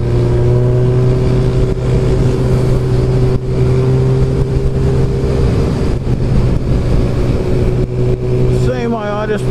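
A motorcycle rides along a road, its engine droning steadily and loud close up, with someone talking over it and a brief rising rev near the end.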